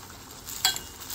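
Tempering is stirred into chickpea sundal in a pan: a short spell of soft sizzling with one sharp scrape of a spoon against the pan in the middle.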